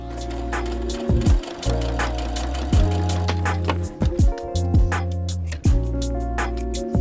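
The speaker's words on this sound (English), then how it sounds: "So I'm going to sew these together" A sewing machine stitches fabric harness pieces together in short bursts, its close motor hum stopping and restarting several times, with handling knocks in between.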